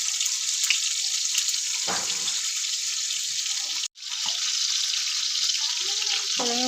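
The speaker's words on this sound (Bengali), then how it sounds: "কড়াইতে আমি জিরে ফোড়ন দিয়ে দিলাম।" Cumin seeds dropped into hot oil in a wok hiss with a steady, bright sizzle that holds throughout, briefly cut off once before resuming, with a few soft clinks near the end.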